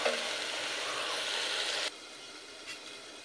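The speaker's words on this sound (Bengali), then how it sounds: "এই মশলাটা একটু কাঁচা গন্ধ যাওয়া পর্যন্ত মিনিট 2 দিয়ে ভালো করে কষিয়ে নেব" Bengali spice paste for bacha fish curry sautéing in a hot pan, a steady close sizzle that drops abruptly to a quieter simmering hiss partway through, with no talking.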